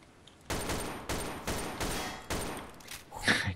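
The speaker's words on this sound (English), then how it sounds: "I tried using the shotgun." A shotgun in the game Garry's Mod fires five booming blasts spaced roughly half a second apart, each with a short decaying tail, followed by a brief clattering burst at the end.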